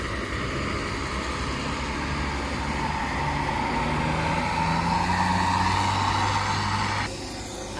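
A tourist bus passes on a steep mountain road amid heavy traffic, a continuous loud engine roar that swells as it overtakes and then drops off sharply near the end.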